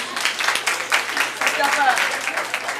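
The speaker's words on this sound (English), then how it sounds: "Let's give her a round of applause" Applause at a young women's symposium, a crowd clapping in a dense, steady patter that stays loud and close across the whole moment, with voices mixed in.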